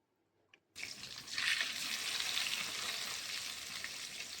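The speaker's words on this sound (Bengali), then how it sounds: "ভালোভাবে মাছগুলো ভেজে নিয়ে তুলে নেব" After a brief quiet moment, a sudden loud burst of sizzling as chitol fish pieces hit hot mustard oil, continuing as a steady crackling fry.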